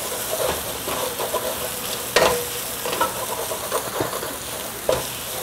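Ginger garlic paste frying in a pan for chicken biryani, stirred constantly, gives a steady close sizzle broken by occasional scraping clicks of the spoon against the pan bottom.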